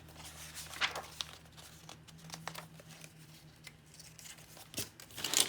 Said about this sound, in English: then you could round corners with some wavy, ripply scissors like that.